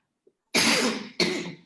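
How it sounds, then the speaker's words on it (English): Two harsh coughs in quick succession, loud and close, with no talking. "I've got a huge cough at the moment."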